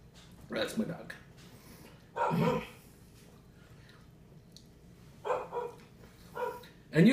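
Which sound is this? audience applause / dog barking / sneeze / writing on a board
dog barking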